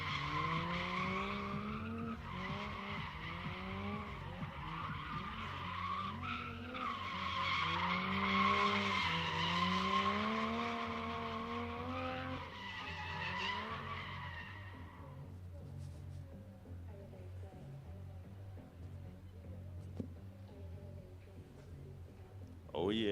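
An old school BMW with gold rims drifts around a drift pit, with a long, wavering tire squeal and skidding howl over a steady engine roar that fades around fifteen seconds, leaving low background rumble.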